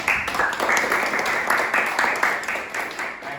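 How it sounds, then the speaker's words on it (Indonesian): A crowd applauds steadily for a few seconds, many hands clapping together at a moderate volume. "Tepuk tangan buat semuanya"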